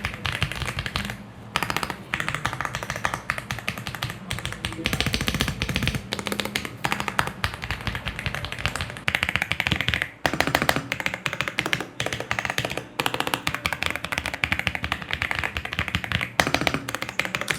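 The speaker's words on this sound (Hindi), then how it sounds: "इन दोनों कीबोर्ड का साउंड वाइल टाइपिंग।" Typing on AULA F75 and KREO Swarm 65 keyboards fitted with red switches: a close, continuous stream of quick key taps and clacks with brief pauses between bursts.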